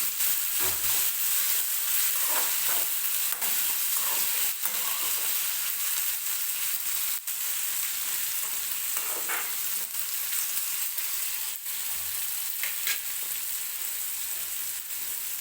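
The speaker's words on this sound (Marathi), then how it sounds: "आता मी याच्यामध्ये टाकणार आहे टोमॅटो. टोमॅटो सुद्धा व्यवस्थित भाजून घ्यायचा आहे मऊ होईपर्यंत." Tomato frying with onion in a pan for a spicy black bean usal, stirred now and then: a steady hiss of sizzling oil runs throughout with occasional scraping clinks, and no one talks.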